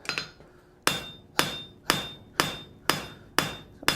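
A hammer pounds a hot metal piece to thin it, striking in a steady, evenly spaced rhythm of sharp, ringing blows about half a second apart, close and clear with no voices.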